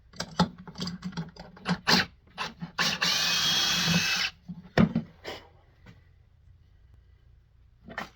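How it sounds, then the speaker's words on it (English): Power drill boring a fresh hole with a drill bit, heard in short whirring bursts and clicks, then a sustained grinding stretch of about a second, followed by a few knocks before near quiet; close and fairly loud, with no talking. "Try to drill a fresh hole for a good reference."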